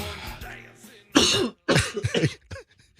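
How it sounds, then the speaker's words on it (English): A person coughing on a live morning show, a rough run of several hacking bursts after a stretch of murmured background sound, close and loud. "I Hope you don't have that 100-day cough"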